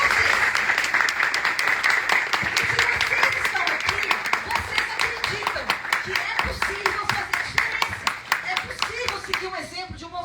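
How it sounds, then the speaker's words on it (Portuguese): Audience applause at a political leadership meeting in Bahia, Brazil: dense, sustained clapping from a crowd lasting the full stretch, steady and loud before thinning slightly at the end. "Então eu peço uma salva de palmas para vocês que estão aqui."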